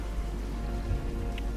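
Steady rain falling in the video game The Witcher 3, a dense even hiss of drops on surfaces with a low rumble beneath, continuous and without speech.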